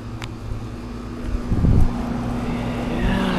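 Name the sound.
Heil packaged heat pump running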